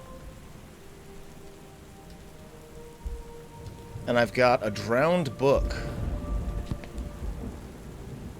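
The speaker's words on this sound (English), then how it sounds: "The cold comes first, thunder growling, waves pounding" A storm in the video game Book of Hours brings steady rain hissing throughout and low thunder rumbling underneath, while someone talks over it in the middle.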